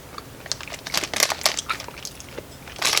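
Close-up chewing of chocolate-covered banana taffy candy from New Zealand, with moist smacking and crinkly bursts that swell in the middle and again at the end, without speech.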